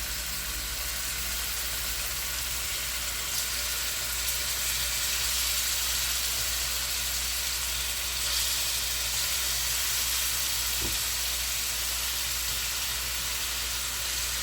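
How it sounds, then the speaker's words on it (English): Beef pieces browning in a hot pan for stroganoff, giving a steady, loud, continuous sizzle and frying hiss throughout with no talking. "Now we're going to brown the meat."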